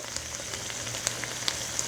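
Lotus root braising in a pan as its liquid reduces, giving a steady, soft crackling sizzle like light frying or rain, with a few sharper pops scattered through it.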